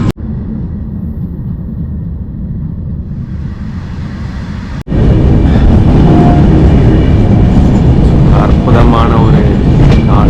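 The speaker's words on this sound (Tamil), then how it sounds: "இந்த ட்ரெயினில் என்னன்னே தெரில ரொம்ப சத்தமாக இருக்குது" A train rumbles loudly along the tracks in a continuous, heavy roar. Midway it abruptly grows even louder and harsher, as if a door opened.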